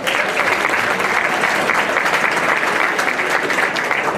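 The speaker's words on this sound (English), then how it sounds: "Another round of applause for Shannon." Audience applause at an awards ceremony, dense sustained clapping from a large crowd, loud and steady throughout.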